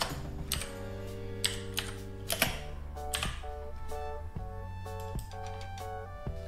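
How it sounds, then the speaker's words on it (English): Steady typing on a computer keyboard, a run of quick close key clicks at an uneven rhythm, heard alone over a soft steady background tone. "I will go to the first line, click on it, and start typing."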